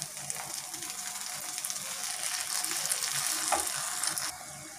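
Semiya vegetable biryani of vermicelli and vegetables frying in a pan while being stirred, a steady close sizzle with scraping stir movements running throughout, no voices.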